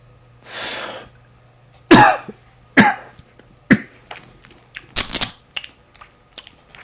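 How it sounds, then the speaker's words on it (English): A person coughs several times in separate sharp bursts, close and loud, with quiet pauses between them. "Pardon my coughing."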